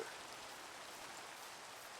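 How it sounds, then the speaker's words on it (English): Steady rain in the Minecraft video game, a constant even hiss of falling drops with no variation over two seconds, heard alone without any talk. "I hate that it's raining so much"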